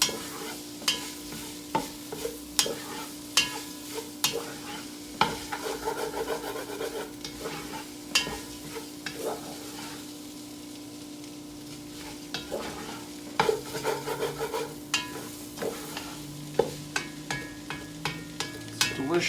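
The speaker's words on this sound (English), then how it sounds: "you cook the rice for almost 10 minutes in hot fat" Rice fries in hot fat in a pot for jambalaya, a continuous soft sizzle under repeated scraping and stirring strokes of a spoon against the pan, close and steady throughout.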